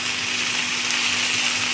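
Chicken sautéing in a pan while being cooked down for paper chicken, a continuous hiss and sizzle at moderate level, steady throughout with no talking.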